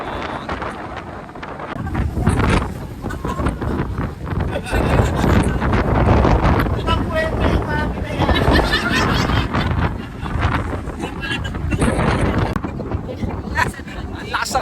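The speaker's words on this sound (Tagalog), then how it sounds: "Grabe yung hangin dito." Strong wind buffets the microphone on the open deck of the Costa Serena cruise ship, a loud, continuous roar and rumble lasting throughout, with people talking over it.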